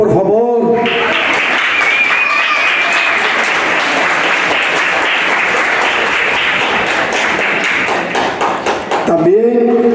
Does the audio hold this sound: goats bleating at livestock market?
no